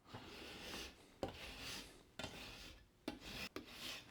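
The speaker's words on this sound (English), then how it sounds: "So just have a rasp here." A kitchen rasp files soft plaster on the foot of a slip cast mold, giving close, loud scraping strokes in a quick irregular series with short pauses between them.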